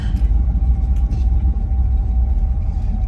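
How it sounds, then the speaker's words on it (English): A 1978 Chevrolet K10 pickup truck on the road, its engine giving a loud, close, continuous low rumble with cab noise throughout, a short stretch of driving as it goes through the gears. "So we'll go through the gears here."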